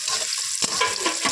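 Chopped onions fry in a hot pan for chicken biryani, a close, continuous sizzle with crackling bursts as they are stirred.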